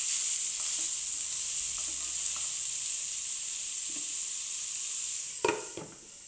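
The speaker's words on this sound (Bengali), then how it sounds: "প্রথমে আমরা পেঁপেটা ভাজি করে নেব।" Papaya frying in a pan gives a steady, even sizzle at close range, with a few soft utensil taps and a brief louder scrape of stirring near the end; no one speaks.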